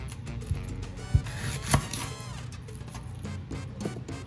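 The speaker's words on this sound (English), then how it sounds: "Be cutting up my onions." A knife chopping onions on a board, a series of soft, irregular cuts with a few sharper thuds, close by and heard alone.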